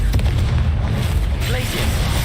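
Confringo fire spell explosion from Hogwarts Legacy, a deep booming blast with a sharp burst, heard loud and close, with a second impact near the end, over steady game background.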